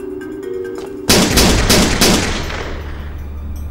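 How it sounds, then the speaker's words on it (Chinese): Gunfire in a Chinese wartime spy drama: after a second of quiet, a loud, sudden burst of rapid shots erupts and rolls on, then fades into a reverberant, echoing tail. "好像有枪声。"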